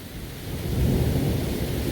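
Low rumble of thunder swelling midway, rolling under a steady hiss of rain during a severe thunderstorm on Dauphin Island, Alabama.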